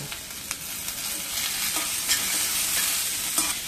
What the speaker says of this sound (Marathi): तर आपण आता बटाटे घालून घेऊया.